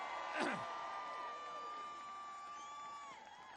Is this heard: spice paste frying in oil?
no